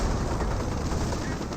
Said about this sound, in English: Now got the barrages being brought in point blank range,